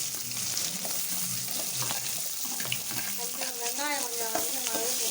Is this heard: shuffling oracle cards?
no